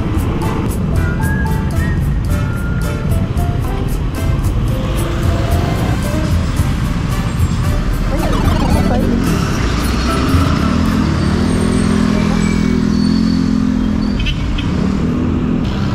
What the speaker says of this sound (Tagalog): Dito na magsa-start yung traffic.